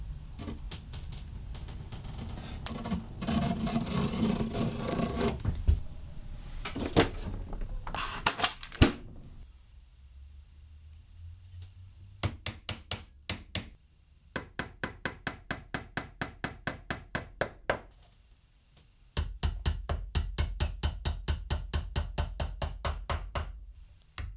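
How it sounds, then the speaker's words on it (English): Nails hammered into wooden boxes assembled with wood glue in a workshop: several bursts of rapid, evenly spaced hammer blows, loud and close, separated by pauses and quieter handling noise. "I'm going to get them put together with just some wood glue and some nails"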